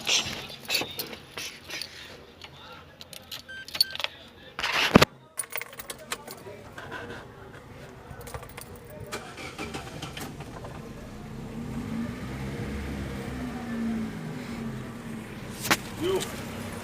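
A car engine with a faulty belt tensioner whose spring has broken is started and left to idle. It gives a low, steady hum with a rough drone, after a few seconds of clattery handling noises and brief sharp clinks nearby.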